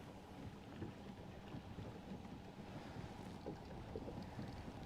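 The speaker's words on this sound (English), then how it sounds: "It is getting a little breezy." Breezy outdoor wind gives a constant low rumble and buffeting across the microphone, steady and fairly faint, with no voices.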